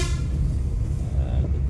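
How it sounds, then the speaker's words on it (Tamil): A car horn sounds briefly over steady low road and engine rumble on a mountain road from Tirumala, close by and fairly loud. "அதுக்குள்ளே ஹார்ன் அடிக்கிறாரு."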